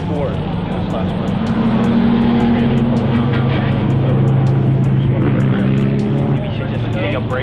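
Daijiro Yoshihara's VA-powered Nissan S13 drift car at a West Palm Beach, Florida drift event, a loud, sustained engine roar that holds steady throughout, with faint background noise and no clear talk.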